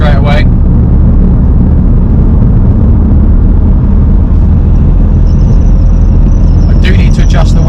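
A rebuilt, previously crash-damaged BMW M2 Competition is being driven. Its loud, steady engine and road rumble fill the cabin, with a faint whine and short knocks near the end, and a voice talks over it.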